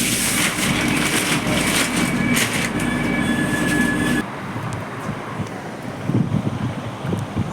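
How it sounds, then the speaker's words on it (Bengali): A train pulling out of Bhubaneswar station, a steady loud rumble of wheels on rail with faint squeal, the noise dropping suddenly midway to a quieter rolling hum with some clatter, no talking. "ট্রেন এখন ভুবনেশ্বর স্টেশন থেকে বেরিয়ে যাচ্ছে"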